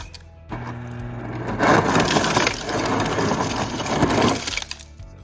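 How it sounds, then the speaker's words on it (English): Crushed ice pours from the door dispenser of a Kenmore 26.1 cu ft refrigerator, a loud, continuous gravelly crunching and rattling for several seconds over a low motor hum, stopping abruptly. "crushed ice."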